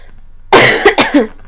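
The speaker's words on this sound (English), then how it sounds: "a bit of a cough" A close, loud cough in a quick series of two or three hacks, with a raspy throaty edge, then silence.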